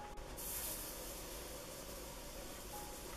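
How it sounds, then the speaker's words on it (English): Febreze air freshener sprayed in a tidy bedroom: a faint, brief aerosol hiss, a single short spritz early on over a quiet, steady room background. "let me spray some Febreze"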